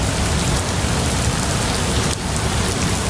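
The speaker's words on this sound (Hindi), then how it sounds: "बहुत ज़्यादा बारिश आ गई" Heavy rain pouring down in a steady, dense hiss that fills the whole stretch, loud and close, with a brief dip near the end and no voices.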